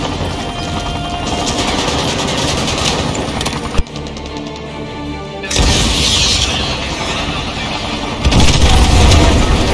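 Missile strikes and explosions in Call of Duty Modern Warfare 2 Remastered, loud booming blasts with a sharp hit near four seconds, then heavier rumbling impacts and dense gunfire-like crackle that swell louder toward the end.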